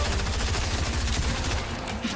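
Rapid, dense bursts of a primal shotgun firing in Fortnite, a steady close barrage of shots that continues for about two seconds with no voice over it.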